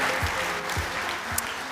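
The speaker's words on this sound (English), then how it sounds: "a big round of applause and congratulations" Audience applause at an F1 in Schools World Finals awards ceremony at Silverstone, a steady, moderately loud wash of clapping from a large crowd that fills the whole short stretch with no talking.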